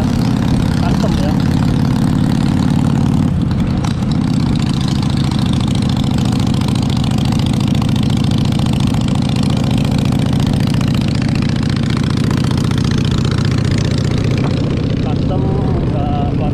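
Motorcycle with a custom downward-facing exhaust idling on a street in Bali in the evening, a steady, loud low engine rumble lasting throughout with traffic around and faint talk underneath.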